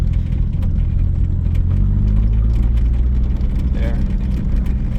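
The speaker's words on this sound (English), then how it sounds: "Shifted into second gear." A 1990 Toyota Supra engine rumbles loudly in second gear while driving across a field, a steady low drone that rises slightly in pitch partway through, with the car's interior noise close and constant.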